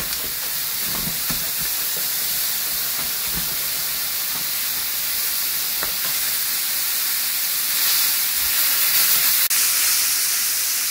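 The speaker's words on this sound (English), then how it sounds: "Our tomato is still caramelizing." Tomato and onions sizzle in a pan while caramelizing for a beef goulash, a steady close hiss with occasional small pops and stirring, no voices.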